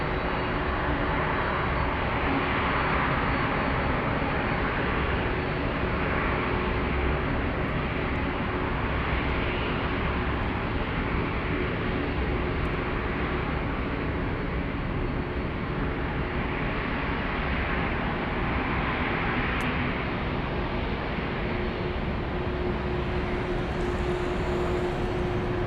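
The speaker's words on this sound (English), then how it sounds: "UPS from Osaka taxiing" A UPS cargo airplane from Osaka taxis with a loud, steady jet engine roar and broadband rumble that holds level throughout without pause.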